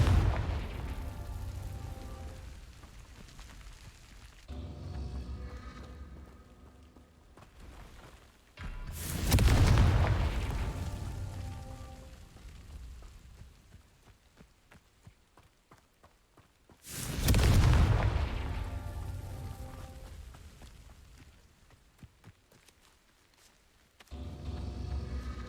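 Confringo blasting spell fired in Hogwarts Legacy, two heavy booming explosions spaced several seconds apart, each a loud sudden burst that rumbles and decays, over quieter game ambience.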